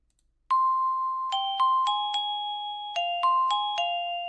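Isolated B section melody played back in music software, a bell-like synth tone picking out a sequence of clear, sustained notes with gentle overlapping decays, played alone.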